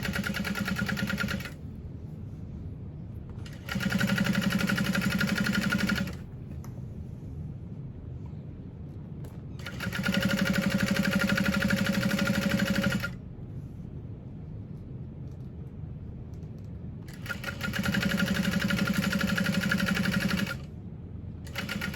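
Sewing machine top stitching the handle of a fabric tote bag, running in three steady bursts of rapid mechanical whirring separated by short pauses, close and fairly quiet with no talking.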